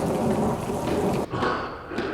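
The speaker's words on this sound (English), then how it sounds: "It's still raining." Steady rain, a sound effect in a community theatre radio drama, hisses loudly and continuously, then breaks off abruptly and returns with a sharp thump partway through.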